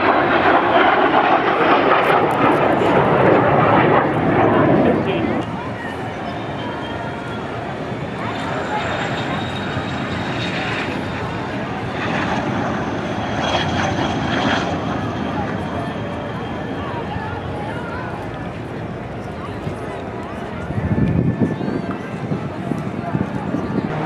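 An aerobatic airplane performs rolls and dives at an outdoor airshow, its engine droning loud and continuous throughout with swells as it passes, under an announcer's voice over a public address.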